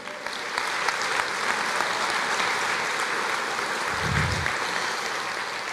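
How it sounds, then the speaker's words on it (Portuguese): Church congregation clapping praise to the Lord during a service, sustained even applause from many hands filling the room, with a short low rumble near the end. "Você pode aplaudir o Senhor?"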